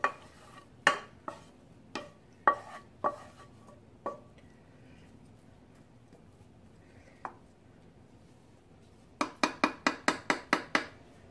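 A spoon scrapes and taps against a slow cooker crock as a beef and pork mixture with onion is spooned in. The clinks come in irregular bursts, then a quiet stretch, then a quick run of rhythmic knocks at the end.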